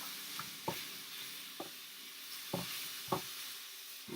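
Shrimp hit a hot stir-fry pan with green beans, giving a steady sizzle broken by several sharp splashes and clatters as they are tossed, close and moderately loud, with no talking.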